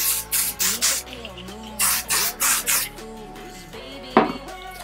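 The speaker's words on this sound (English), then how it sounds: "grab my texturizing spray and just spray a bit to hold them curls." Several short bursts of texturizing hair spray hiss in quick succession onto curled short hair, close by, with soft background music playing underneath throughout.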